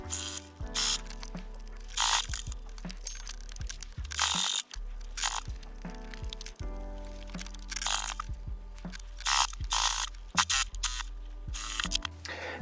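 A sewing machine stitches along the bottom edge of a quilted trucker hat brim at a 3/8-inch seam, running in close, loud mechanical bursts with repeated clicks and whirs separated by short pauses.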